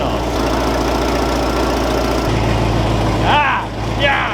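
A 1971 crew cab truck's EFI engine idling close by with short exhaust tubing fitted, a loud, steady low rumble and throb, with brief voices near the end.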